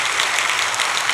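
A church congregation claps in applause during an early-morning special dawn prayer service, a steady, dense burst of many hands that stays even and fairly loud throughout the short moment with no talking over it.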